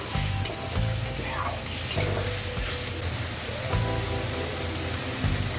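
Spices, whole cumin and dry chilli powder, sizzle and fry in a pan with a splash of water for a Bengali fish curry, a dense continuous hiss with occasional scraping stirs, close and steady throughout.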